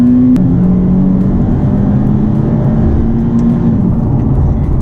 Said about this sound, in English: we're just gonna drop it down into a third gear and do a third gear acceleration